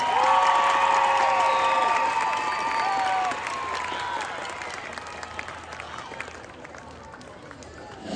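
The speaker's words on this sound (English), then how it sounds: "I know you've been cheering like crazy." A crowd applauding and cheering loudly, with whoops and whistles over steady clapping that fades somewhat toward the end.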